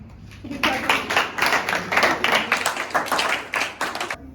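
A group claps steadily at a New Year's Eve party gathering, a moderately loud patter of many hands that continues for several seconds before stopping abruptly.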